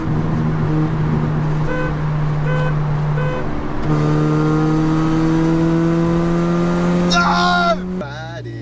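A car fitted with a cheap turbo kit accelerates hard and climbs through the gears, the engine note rising in steady sweeps and resetting at each shift before easing off near the end, loud and close with excited voices shouting over it.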